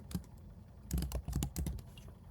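A short word is typed on a computer keyboard: a quiet single tap, then a quick run of about eight close, crisp keystrokes in an uneven rhythm, heard alone with no talk.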